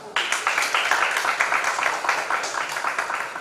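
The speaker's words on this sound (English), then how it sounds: "Please give a big round of applause for all of us" An audience at the end of a public debate applauds with dense, steady clapping that holds at an even level throughout.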